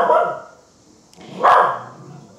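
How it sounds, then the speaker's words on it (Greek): A pet dog indoors gives two sharp barks about a second and a half apart, fairly loud and close, with quiet room tone between them and no talking. "η Σελήνη δεν σταματάει να γαυγίζει."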